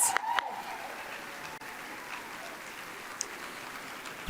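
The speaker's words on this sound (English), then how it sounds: "let's give another round of applause" An awards-ceremony audience at the Nanaimo Women of Influence Awards applauds, with a few sharper sounds at the start before the clapping settles into a soft, distant patter that carries on at low level.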